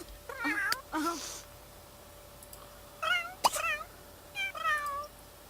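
Cats in The Sims 3 let out several short, high meows in separate bursts over a quiet background, with a sharp click in between.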